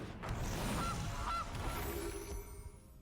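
A goose honks twice within MTG Arena, with two short, clear nasal calls over a steady game background hum. No one speaks.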